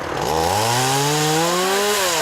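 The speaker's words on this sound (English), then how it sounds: "we're out doing chainsaw certification today. We're also clearing some wood from Rock Creek Trail." A chainsaw cutting wood on a forest trail revs loud and steady right up close, its engine pitch climbing and holding before easing slightly near the end, with no pauses.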